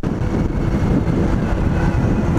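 A truck's engine growls loudly in nearby street traffic, a heavy low rumble that swells as it shifts gears, continuous and close with no talk.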